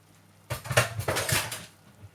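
Metallic clanks and rattles of a pressure cooker lid being handled and opened after its pressure has been released, a short close cluster of knocks lasting about a second.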